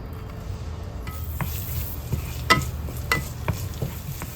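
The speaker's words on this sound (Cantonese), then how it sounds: "將嗰啲薑啊、葱啊或者味道呢爆香佢，爆佢出嚟" Ginger and scallion stir-fry in a wok, a steady close sizzle broken by several sharp scraping clicks of a spatula against the pan, with no talk.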